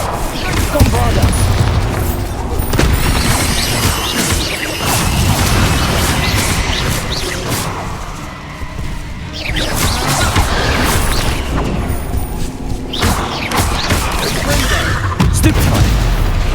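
Dense, continuous spell combat from Hogwarts Legacy: repeated Confringo and Bombarda explosion spells go off as loud booms and crashing impacts, layered with clattering debris and effort sounds across the whole stretch.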